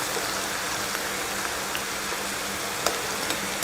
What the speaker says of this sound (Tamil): நம்ம இப்படி கலக்கிறப்ப வர சவுண்டுலேயே தெரியுது நல்லா மொறுமொறுன்னு இருக்குன்னு